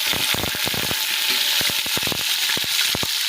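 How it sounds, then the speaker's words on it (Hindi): Onions dropped into hot oil for an aloo gobhi curry, giving a steady close sizzle with a string of sharp crackles and pops across the whole stretch. "ऑयल हमारा गर्म हो चुका है, तो अब हम इसमें प्याज डालेंगे।"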